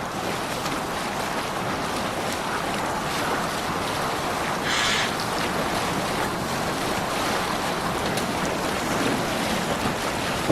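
Sailing a boat across the open sea in Assassin's Creed Valhalla: a constant loud rush of wind and surging waves with buffeting wind noise throughout, no talk.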